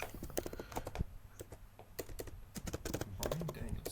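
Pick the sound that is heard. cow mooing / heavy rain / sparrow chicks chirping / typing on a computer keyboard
typing on a computer keyboard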